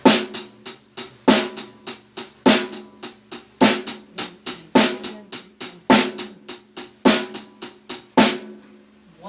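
A drum kit groove with the bass drum on the odd beats and the snare on the even beats. The hits are steady, evenly spaced and punchy, with a cymbal wash, and no one speaks.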